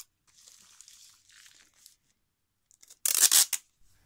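Faint rustling of paper while making a journal, then one loud, close rip of tape being pulled off the roll, lasting about half a second, with a soft crinkle after.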